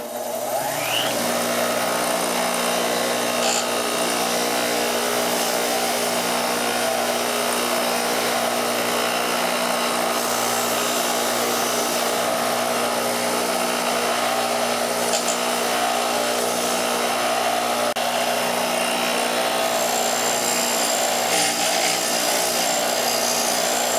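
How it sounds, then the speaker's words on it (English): Wire wheel on an angle grinder scrubbing rust off antique Singer treadle sewing machine hardware, a loud steady high whine with a constant bright scraping hiss, running unbroken and close throughout. "you can see how that wire wheel takes off all that rust"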